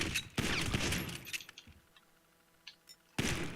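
Gunfire in GTA 5 Online: a sharp burst of rapid shots, then scattered single pops and clatter, and another loud burst at the end, close and with no speech.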